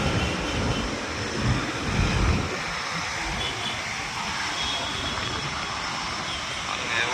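An Emirates airliner at Chennai airport gives off a loud, broad jet-engine roar that holds steady and shifts slightly in tone partway through, with a voice talking over it.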